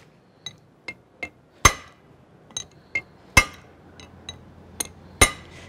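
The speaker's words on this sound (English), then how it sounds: "It might be forced to use some a hammer and to drive it in." Sharp metallic hammer taps drive a bearing into place on an MEC 8000 vacuum pump, striking at irregular intervals, a few ringing louder than the others, with quieter clinks between them and no voices.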